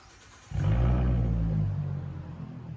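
Ford Mustang V6 with a true dual exhaust, X pipe and straight pipes bursts into a loud, deep rumbling roar after a brief quiet moment, holding steady and close before easing slightly.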